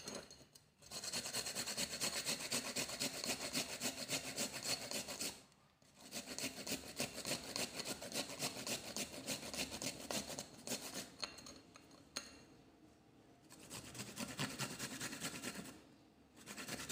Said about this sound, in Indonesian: Cara membuatnya adalah kita parut jahe